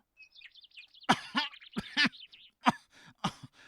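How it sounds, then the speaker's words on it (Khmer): An animated character coughs and chokes in a run of harsh, sputtering coughs and throat-clearing bursts, several sharp hacks in quick succession, close and alone, preceded by faint chirping sounds. "ពេលខ្លារត់បាត់អាតេតក៏ស្ទុះងើបឡើងទាំងក្អកស្លាក់ខ្យល់"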